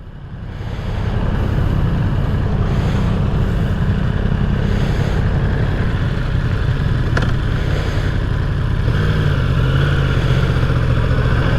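A Honda Grom motorcycle travels on a road near Fernandina Beach, Florida, heard as a steady, loud engine drone mixed with road and vehicle noise throughout, with no clear pass-by swell.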